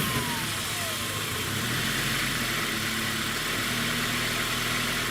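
A Toyota 2ZZ engine swapped into a Spyder idles steadily and fairly quietly, a continuous low hum with broadband hiss and no clear revving.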